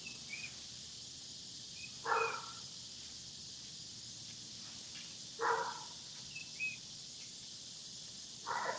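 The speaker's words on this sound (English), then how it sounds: "That's the neighbor's dog." A neighbor's collie barks outdoors at a distance, three short separate barks spaced several seconds apart over a faint background of insects and birds.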